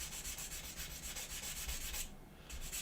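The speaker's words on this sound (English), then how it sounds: "we're just going to come in with our medium sander, and we're just going to sand this top" A medium sanding stick rubs back and forth over a seam on a plastic Revell 1/53 scale AT-AT model kit, a quiet rhythmic scratchy rasping close up, with a brief pause before the strokes resume.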